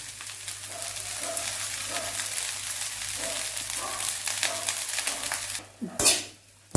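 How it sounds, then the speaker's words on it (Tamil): Cooked curry leaf rice being stirred and mixed in a pan over a steady sizzle, with soft scraping and clinking throughout and a louder metallic clatter near the end. "வேக வச்ச ரைஸ் வந்து நான் வந்து இதில் நல்லா மிக்ஸ் பண்ணுறேன்"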